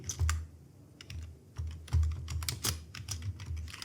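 Someone types on a computer keyboard while entering text in an Excel spreadsheet, a close, steady clatter of keystrokes running through the whole stretch with no talking.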